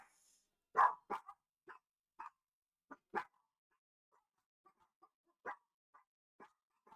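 Small chihuahuas bark in short, sharp yaps, scattered and irregular, some in quick pairs, fairly close with quiet gaps between them.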